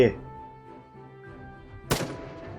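Rocket artillery in the tower-defense game Northend Tower Defense fires one sharp, loud blast partway through, over a quieter game background while someone talks.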